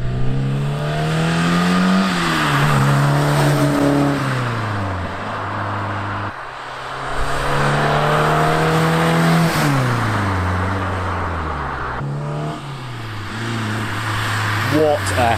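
A 1978 Ford Escort RS2000 with a Pinto engine revs hard through repeated gear changes on a country back road, the pitch climbing and dropping in loud, rasping surges, with voices speaking underneath.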